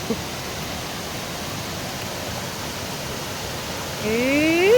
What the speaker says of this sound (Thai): ถ้าน้ำไหลอีหลี ฝนแห้งอีหลีจังไหลพี่น้อง